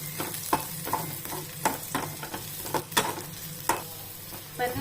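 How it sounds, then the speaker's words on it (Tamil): Small shallots sautéing in oil for a chicken dish, a soft continuous sizzle broken by repeated spatula scrapes and clinks against the pan, close up with no talk. "நல்லா சின்ன வெங்காயத்தை நல்லா வதக்கணும் எண்ணெயில்."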